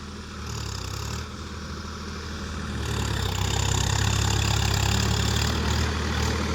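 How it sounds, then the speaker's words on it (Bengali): A Swaraj 744 XT 4WD tractor with a new rotavator blade ploughs a dry field, its diesel engine droning loud and steady, swelling a little heavier partway through, with no voices. "তো এই আমাদের শুকনো জমি চাষ দেওয়া হচ্ছে, দেখো।"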